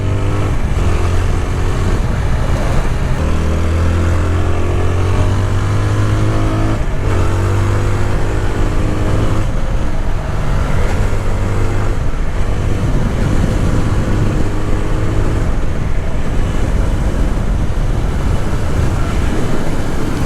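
A 2026 TVS Apache 160R motorcycle engine drones steadily throughout while riding, its pitch rising and falling with throttle changes, loud and close under continuous wind rush, with no speech.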